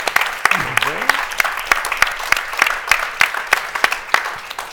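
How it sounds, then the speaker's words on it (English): A panel audience at an election discussion event applauds, with sharp claps scattered through a steady wash of clapping and some voices mixed in. "please give a round of applause to the panelists."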